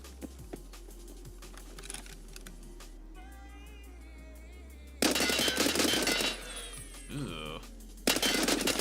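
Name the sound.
gunfire while testing gun recoil in a video game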